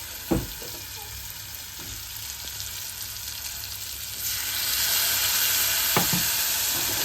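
Oil sizzles steadily as a spice tempering of garlic, turmeric, red chili and coriander-cumin powder fries for a Rajasthani kachri sabzi, with a few sharp clinks of a spoon against the pan; the hiss swells louder midway and carries on without speech.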